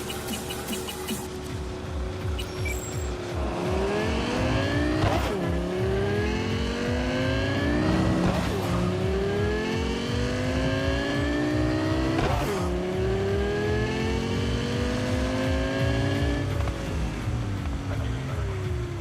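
A fast car engine in Cyberpunk 2077 revs and shifts through gears over and over, loud and continuous, with occasional tire squeal and no voices.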